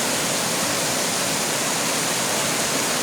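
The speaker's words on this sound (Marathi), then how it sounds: "खूप जोरदार आणि खूप छान असं पाणी वाहत आहे धऱ्यातून" Water rushing loudly and steadily, a dense, unbroken roar of a strong spring-fed stream flowing close by at the foot of a hill in the Konkan.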